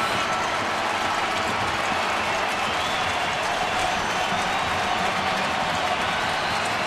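Crowd of over 23,000 at a night baseball game rising to its feet, a loud, steady roar of cheering and applause that runs the whole stretch without a break, with a commentator's voice under it.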